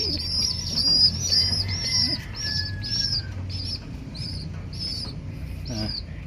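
Young pigeons at a loft give repeated high chirps and calls, with occasional bursts of wing flapping close by over a steady low background.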